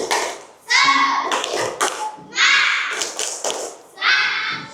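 A school class performs the tepuk semangat clapping chant, with children's voices shouting in rhythmic bursts, punctuated by sharp claps and thumps, loud and close in an indoor room.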